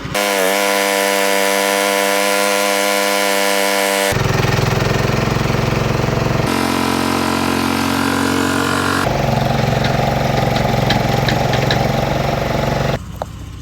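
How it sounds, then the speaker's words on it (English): A micro digger's engine with an auger attached runs loudly nearby, its pitch stepping between a steady idle and higher, harsher working speeds in several distinct stages before cutting off near the end. "we're going to attach the auger to the micro digger"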